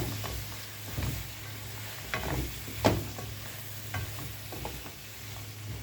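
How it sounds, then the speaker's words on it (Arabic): Vegetables with spices and sausage are stirred in a pan, a soft background sizzle punctuated by repeated spoon scrapes and knocks at an uneven rhythm, one sharper clack near the middle. "هقلب الخضار مع التوابل والسجق."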